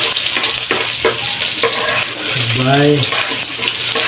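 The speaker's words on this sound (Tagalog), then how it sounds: "Lagyan natin ng konting oil para igisa yung ating ricado." Garlic and onion sautéing in a little oil for a pork and string bean dish cooked in coconut milk, a steady moderate sizzle with scraping stirs, while a person speaks briefly over it.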